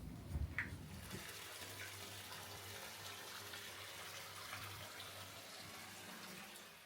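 Bathtub in a luxury London hotel room filling with water, a steady faint gush from the tap running on and on, with a small clatter near the start.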